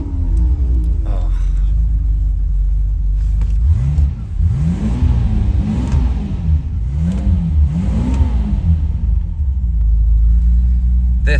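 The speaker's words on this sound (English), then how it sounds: "Let's start up the V12." Classic car V12 engine started and revved in a private collection, deep rumble rising and falling through several throttle blips up close, with a voice briefly heard over it.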